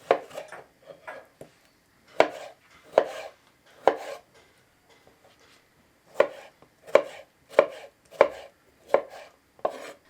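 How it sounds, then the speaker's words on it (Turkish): A knife chops a peeled tomato on a board in irregular bursts of close, sharp cuts, with brief pauses between groups. "Bir tane kabuğu soyulmuş domates doğruyorum."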